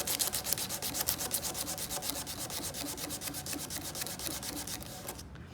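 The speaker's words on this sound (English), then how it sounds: "fold the piece of sandpaper in half, hold it flat up against the edge you want to sand" Folded sandpaper pushed along the edge of an acrylic piece, a steady run of fast, evenly spaced rasping strokes that continues for several seconds at close range, then stops abruptly.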